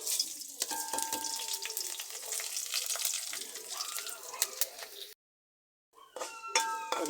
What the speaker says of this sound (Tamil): கடுகு வெந்தயத்தை போட்டுடலாம்